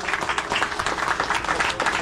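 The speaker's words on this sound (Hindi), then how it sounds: "एक बार उस पिता के लिए भी जोरदार ताली" An audience at a religious seva gathering breaks into brisk, continuous clapping in honour of a father, the applause dense and fairly close for a couple of seconds.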